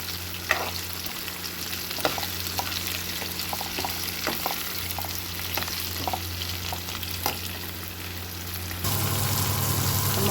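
Whole spices sizzling and frying in hot oil as the tempering for a pumpkin curry, a steady close crackle with occasional stirring clicks, no talk.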